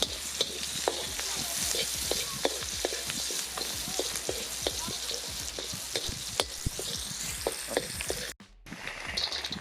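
Pork meat fries hard in a pan for pork pares, a dense, loud sizzle packed with rapid crackles and spatters and occasional utensil clicks, briefly cut off near the end before resuming.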